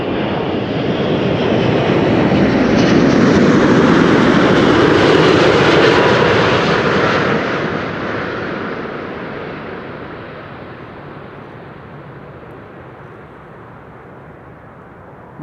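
An Emirates airliner landing at Amsterdam Schiphol roars with engine thrust reversers, a loud broad rushing roar that builds, peaks mid-clip, then fades into a lower, distant rumble.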